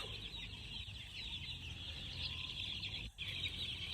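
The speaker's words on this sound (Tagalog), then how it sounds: "makikita po ninyo yung mga bago nating sisiw na nilabas" Young chicks newly let out into an open outdoor area on a farm, clucking and peeping continuously at a steady level throughout, with no talking.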